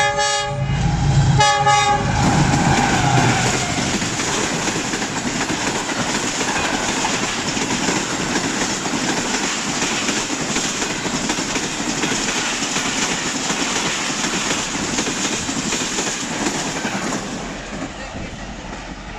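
Shah Latif Express (152 Down) rolling past Moradabad railway station, its horn sounding loudly in repeated blasts at the start, followed by a long steady roar of coaches and wheels that fades near the end.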